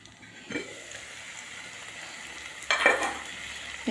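Spices roasting with a soft sizzle in a pan for eggplant bharta over low heat, a steady frying hiss with two louder bursts of stirring scrapes partway through.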